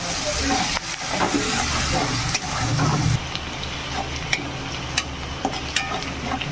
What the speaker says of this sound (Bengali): কাঁচা মরিচ একটু ভালো করে ভেজে নেব